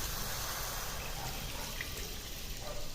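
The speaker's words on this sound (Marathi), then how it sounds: "आणि याच्यामध्ये पाणी टाकून घ्यायचं" Water pours steadily into a cooking pan in a continuous, fairly quiet rush, with no talk.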